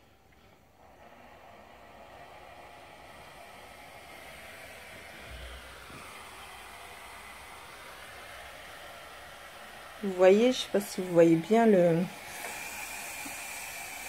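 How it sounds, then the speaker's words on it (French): A Black+Decker steam mop heats up and releases a faint, steady steam hiss throughout, with a person speaking briefly near the end. "vous entendez bien le bruit de la vapeur"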